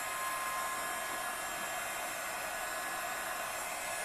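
A heat embossing tool blows hot air to melt embossing powder on a Christmas gift tag, making a constant, loud, steady whoosh with a slight whine that runs unbroken the whole time, with no voices.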